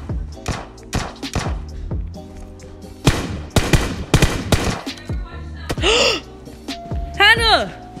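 Gunshots ring out in the video game Battlegrounds as the player comes under fire, in sharp bursts and scattered single shots mixed with loud, excited talking and gasps.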